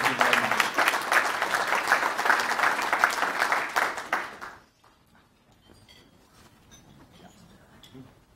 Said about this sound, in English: if you could give yourselves a round of applause